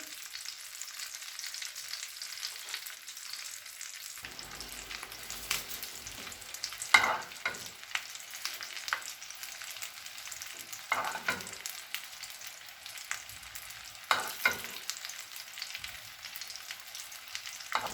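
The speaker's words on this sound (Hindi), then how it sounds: "अब इसके ऊपर रान रख लेंगे। 4 से 5 मिनट तक रान को फ्राई करेंगे।" A mutton leg fries in melted butter in a pan, a continuous soft sizzle with occasional louder crackles and stirring or moving clatters, no talk.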